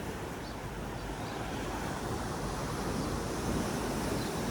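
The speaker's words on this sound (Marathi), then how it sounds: "समुद्राच्या लाटा आणि अथांग समुद्र।" Sea waves wash onto the shore near the coast at Kunkeshwar, a steady broad roar of surf mixed with wind, continuous and even with no voices.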